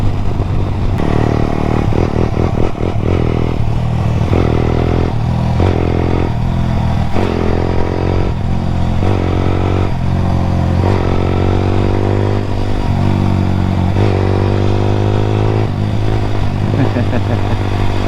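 A Honda CBR125R motorcycle rides along, with a loud, close engine drone, gear-change shifts in pitch and wind rumble, and a voice briefly heard.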